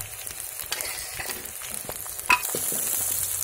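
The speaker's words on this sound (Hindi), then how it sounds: "धीरे धीरे पक रहे हैं प्याज भी, प्याज को थोड़ा ब्राउन होने देते हैं" Chopped onions frying with green chillies in a hot pan for egg bhurji, a steady close sizzle with soft spoon-stirring scrapes and one sharp clink partway through, no talking.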